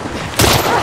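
Burst of machine gun fire in The Last of Us Part 2, a loud sudden blast that cuts in over ongoing game noise and lasts under a second.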